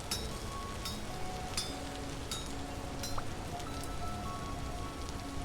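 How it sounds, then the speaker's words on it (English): Rain falls in the Vintage Story video game, a steady patter with scattered sharper drop hits over a constant hiss. No one speaks. "Giving myself temporary little rain shelter here."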